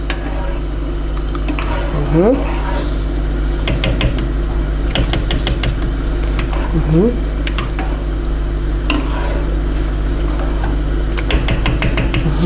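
Spoon stirring a chicken dish simmering in a pot on the stove, with intermittent scraping and clinking against the pot over a steady bubbling sizzle and a constant low hum, close by.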